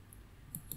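Two quick, faint mouse clicks while drafting in AutoCAD, close and crisp against a quiet room hum.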